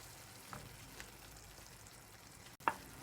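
Eggs drop onto menemen frying in a pan, with a steady close sizzle throughout and a soft splat and clink near the end.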